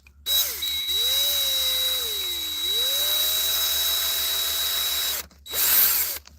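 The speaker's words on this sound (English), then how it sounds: "It's still a fresh drill." A corded power drill whirs loudly and steadily near a Chevy Astro's 4.3L engine during reassembly, running in several sustained bursts with brief pauses and pitch dips between them, no talking.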